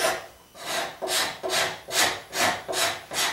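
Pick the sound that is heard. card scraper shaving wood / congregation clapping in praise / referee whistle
card scraper shaving wood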